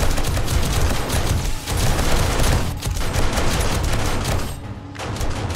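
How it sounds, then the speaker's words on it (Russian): Shotgun turret in 7 Days to Die firing nonstop, a dense loud barrage of booming blasts across the whole stretch with brief gaps near the middle and end. "Так, турелечка, дробовик заработал."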